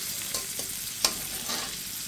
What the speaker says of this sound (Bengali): এই যে আমার চিংড়ি মাছটা ভাজা হয়ে গেছে